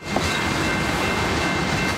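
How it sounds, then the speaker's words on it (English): A freight train of crude oil tank cars rolls along the track, heard as a dense, continuous rumbling roar with a faint metallic whine, close and steady throughout. "They're mobile pipelines, tank cars filled with oil stretching as far as you can see down the track."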